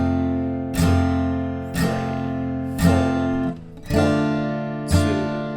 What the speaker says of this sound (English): Strumming pattern 1 is going to be simply 4 down strums,